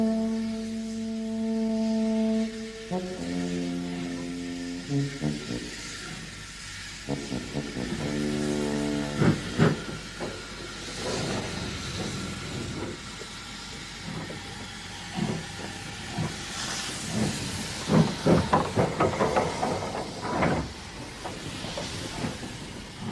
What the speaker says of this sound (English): this is the intercity special you'd have seen steaming past at anything up to 80 miles an